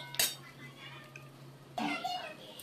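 A spoon stirs fish egg chilli with Kashmiri chilli powder in a pan, giving two short bursts of metallic clinking and scraping, quiet and close, with a low hum between them.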